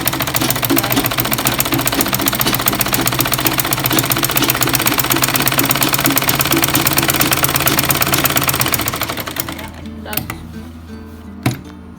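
A sewing machine stitches in a fast, steady mechanical rattle for about nine seconds, running forward then in reverse, before stopping with a few faint clicks and a soft thump.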